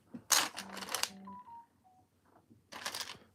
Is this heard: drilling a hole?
no